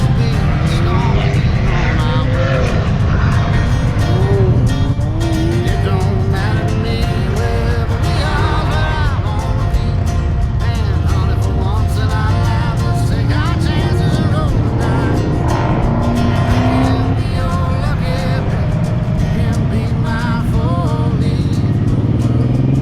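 Exotic cars drive past on a road near Lake George, heard from a motorcycle ride: loud, overlapping engines rev and rise and fall in pitch as they pass, over a constant rumble of traffic and wind.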